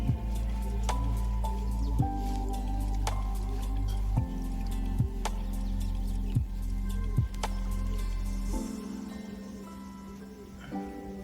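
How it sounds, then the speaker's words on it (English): Mercury drips slowly through a cloth filter, landing as about ten distinct, evenly spaced drops with soft liquid plinks, close and clear with no talking. "You can actually see the mercury dripping down, drop by drop"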